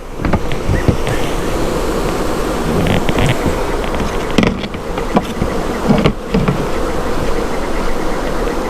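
Honeybees buzz steadily at a beehive, a dense, continuous drone that stays loud throughout, broken only by a few brief knocks and rustles.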